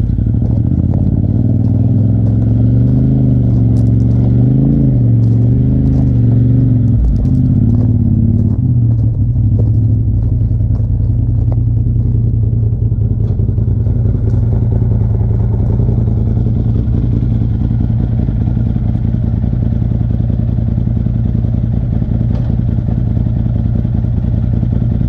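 A side-by-side UTV idles and revs while being driven onto a trailer, a loud steady engine rumble with a wavering rev early on, then a constant low drone and some clatter.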